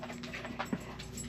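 A puppy whimpers and pants softly close by, with small breathy sounds and faint whines over a steady low hum in an indoor space.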